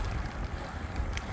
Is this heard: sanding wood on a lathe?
no